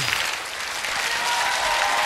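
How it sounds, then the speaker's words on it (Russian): Steady, dense applause from a studio audience in the Pole Chudes game show video game, a continuous wash of clapping at even loudness with no talk over it. "Ну а Вы выиграли супер игру! Эти аплодисменты вам!"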